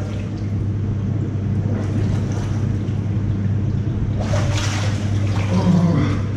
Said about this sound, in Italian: Dai via, prendiamo la doccia, andiamo.